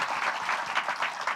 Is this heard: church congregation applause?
yes